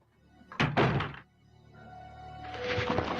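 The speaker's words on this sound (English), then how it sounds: "you open this door," A door opens in the Resident Evil police station video game with two loud, close thunks of the latch and heavy swing, followed by a quieter creaking and a rising hiss of ambience.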